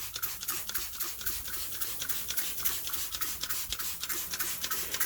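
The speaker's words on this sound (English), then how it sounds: "What I will do is I will spritz it." A spray bottle spritzes a pulled pork neck on a Weber charcoal grill in quick, rhythmic hissing bursts, close and fairly faint, with no talking.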